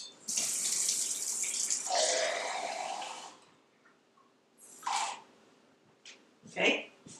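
Water gushes from a tap for a few seconds as half a can of water is added to a blender for sparkling orange juice mimosas, then stops, followed by short splashes and a sharp clink.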